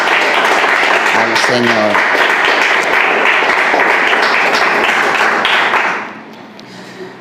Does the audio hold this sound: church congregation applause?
yes